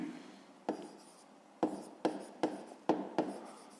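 Handwriting for a fifth-grade math exercise: a pen taps and scratches on paper in a string of about six short, close strokes at an uneven pace.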